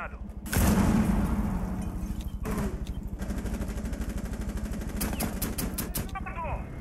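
Rapid bursts of gunfire from a tactical shooter match in Rainbow Six Siege, loud and close, with sharp repeated shots clustered near the end over a steady rumble of game sound and talking voices.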